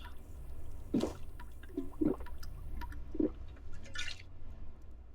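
Water being refilled in the video game Zero Sievert, heard as four or five soft, wet gulping and dripping splashes spaced about a second apart over a quiet low hum.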